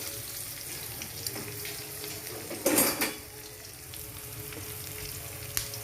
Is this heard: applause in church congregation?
no